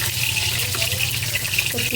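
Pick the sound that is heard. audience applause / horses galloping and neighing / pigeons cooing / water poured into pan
water poured into pan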